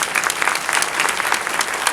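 Lively, dense clapping from an audience at a Mother's Day luncheon fashion show, continuous and fairly loud, with no speech over it.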